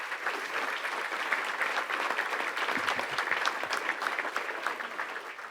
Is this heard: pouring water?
no